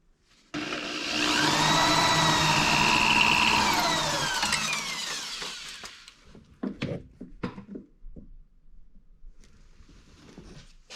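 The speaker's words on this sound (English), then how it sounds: "So I think I'm gonna try to drill all the way through the bolt." A power drill bores into a seized bolt on a Honda Insight, giving a loud, sustained whining grind for about five seconds that winds down, followed by scattered clanks and knocks of tools.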